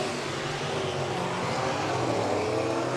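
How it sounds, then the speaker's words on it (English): SportMod race cars lapping the Raceway Park track, a dense, continuous roar of several engines blending together at a distance with no clear gaps. "Jeremy Gannett leads them into turn number 1"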